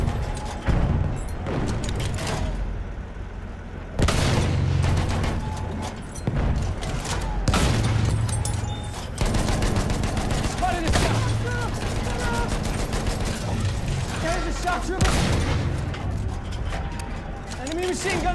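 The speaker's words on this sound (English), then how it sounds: "Enemy machine gun over there!" Machine gun fire in Battlefield 1, loud bursts of rapid automatic shots repeating in several long volleys amid booms and battle noise, with voices shouting over the gunfire.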